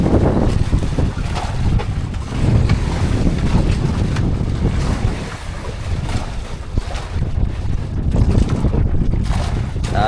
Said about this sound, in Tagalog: lumakas yung amihan simula kagabi